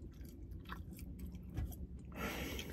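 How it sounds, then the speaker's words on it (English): Gum being chewed hard, close and fairly quiet: moist, squishy mouth sounds in an uneven rhythm over a few seconds, heard alone with no speech. "I am chewing on this gum"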